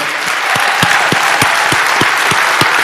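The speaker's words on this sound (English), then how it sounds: "Give a round of applause for that." Crowd applause at Long Beach's 2026 State of the City event, a dense steady wash of clapping with a few louder individual claps standing out, sustained at even volume throughout.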